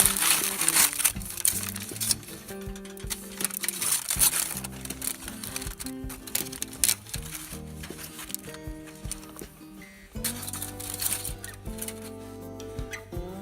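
Crinkling wrap being peeled off a rested tri-tip roast grilled over a campfire, a continuous close rustle and crumple with a brief lull before more crackling.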